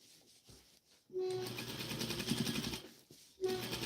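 A sewing machine stitching dress fabric, its motor starting with a steady rapid whir that runs continuously, pauses briefly, then starts up again.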